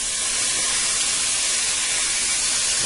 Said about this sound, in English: Take 2 tablespoons of cooking sherry